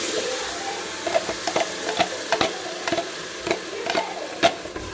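Onions with green chillies, mint and coriander being stirred in a frying pan for chicken biryani, a steady sizzle broken by repeated sharp scrapes and clinks of the spoon against the pan, close and alone.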